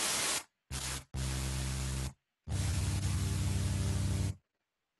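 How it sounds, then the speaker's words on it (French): Bursts of white noise added to a synthesized sound in Ableton Live's Sampler, playing in four loud blocks of broadband hiss over a buzzy tone, separated by short silences. "on peut rajouter un bruit blanc, par exemple, au son."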